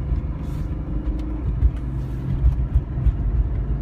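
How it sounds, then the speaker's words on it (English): A 2002 BMW 328xi with a 3.0 inline six and automatic transmission is driving, heard as a steady low engine and road rumble from inside the car with slight swells. "As you see, the automatic transmission shifts correctly."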